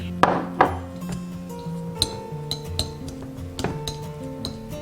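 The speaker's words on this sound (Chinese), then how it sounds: "盆中准备60克奶油奶酪，给它碾碎" Sixty grams of cream cheese being mashed in a bowl for a tea-drink cream topping produces a handful of scattered utensil clinks and taps against the bowl, sharp and fairly close, with quieter scraping between them.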